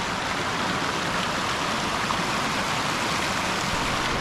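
Continuous broadband rush of a stream at a trail water crossing on the Quehanna trail, steady and fairly close with no voices over it.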